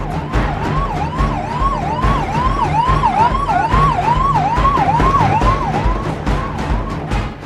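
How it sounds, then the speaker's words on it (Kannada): Ambulances on a highway in Palwal, Haryana, stuck in traffic, sound their sirens. A loud, rapid wailing siren cycles continuously with overlapping tones, over rumbling road traffic. "ಹರಿಯಾಣದ ಪಲ್ವಾಲ್ನಲ್ಲಿ ಆಂಬ್ಯುಲೆನ್ಸ್ಗಳು ಟ್ರಾಫಿಕ್ನಲ್ಲಿ ಸಿಲುಕಿದಾಗ ದಾರಿ ಮಾಡಿಕೊಟ್ಟು ಮಾನವೀಯತೆ ಮೆರೆದ್ರು"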